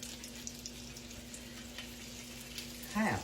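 Potato patties frying in a pan in a home kitchen, a faint steady sizzle with a low hum, then a brief clatter near the end.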